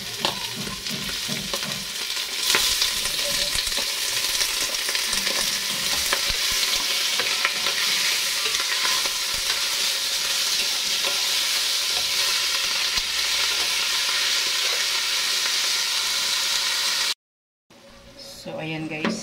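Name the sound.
sautéing onions with chicken liver, gizzards and chicken in a pan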